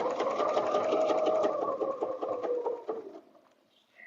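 A sewing machine runs steadily for about three seconds, stitching quilting lines across a butterfly bed runner, close and loud with a fast even needle rhythm, then slows, stops and goes quiet.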